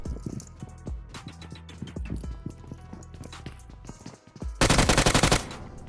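Rapid bursts of automatic gunfire from a solo third-person battle royale match in a high-rank lobby, with scattered shots and footsteps early on, then a loud sustained volley near the end.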